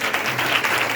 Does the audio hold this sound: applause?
yes